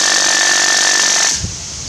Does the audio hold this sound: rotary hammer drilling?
yes